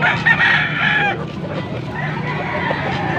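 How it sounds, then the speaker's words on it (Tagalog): A rooster crows loudly nearby, followed by more crowing and clucking from other birds amid a busy background. "Malaking manok."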